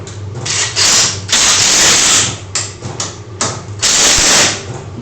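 A Ryobi power tool drives a nut on a small 12V wind turbine in loud, close bursts of whirring, with short pauses between them.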